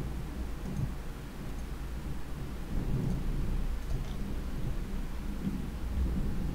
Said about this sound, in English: oh, that's a big thunderstorm right there.